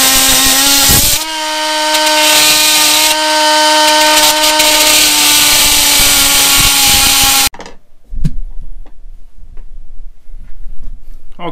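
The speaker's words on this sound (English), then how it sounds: "So I've drilled another couple of holes." A power drill bores holes in wood aboard a narrowboat, a loud sustained whining motor with a steady pitch for several seconds, then stopping, followed by scattered clicks and handling knocks.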